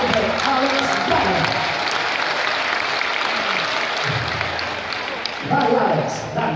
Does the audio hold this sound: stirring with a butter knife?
no